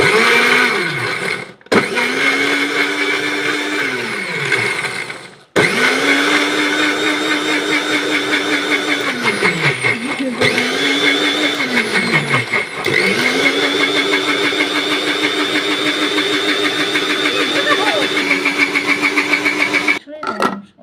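Electric blender running loud and close with a steady whirring motor that winds down and spins up again several times, with speech over it.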